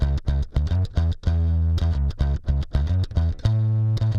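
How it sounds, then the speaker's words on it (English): Layered guitar harmonics treated with flanger and chorus, a chiming run of bell-like notes that ring and shimmer in sweeping, swirling tones, steady and fairly loud with no voices. "Guitar-wise, underneath that, I got some harmonics with some flanger and some chorus."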